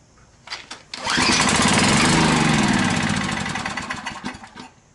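A portable generator engine cranks and catches, roaring up loud and close, then settles into a steady running drone that wavers slightly; the carburetor needs replacing.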